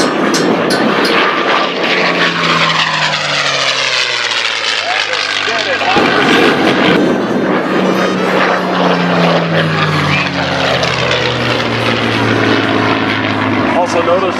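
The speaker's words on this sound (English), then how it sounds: "Here comes the Mustang from the north." A P-51 Mustang warbird flies past at an aviation day air show, its propeller engine droning loudly with sweeping pitch shifts as it approaches and passes, while an announcer talks over it.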